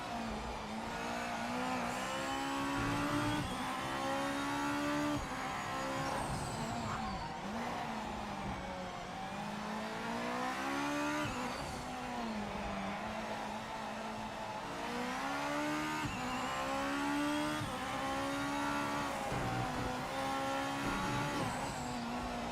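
A race car in the video game Project Motor Racing is driven hard for over twenty seconds, its engine note repeatedly climbing through gears and dropping under braking, with faint tire squeal in the corners.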